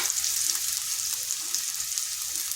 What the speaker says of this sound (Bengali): পেঁয়াজটাকে হালকা ভেজে নিলাম।